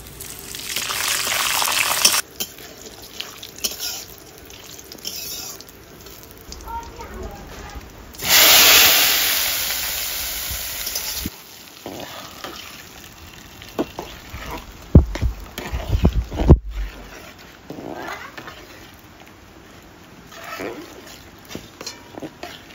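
Cumin seeds and dried red chillies, added with bay leaf, hit hot oil for a home-cooked khichuri, giving a sudden loud sizzling burst that fades over a few seconds, with kitchen clatter and voices around.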